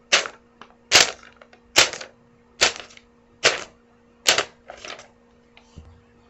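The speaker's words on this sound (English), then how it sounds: "I'll be using a paper and crumpling it up with my hands" Foley footsteps on grass made by crumpling paper by hand: bursts of crisp crackling repeat at an even walking pace, about seven crunches, close and fairly loud with quiet gaps between.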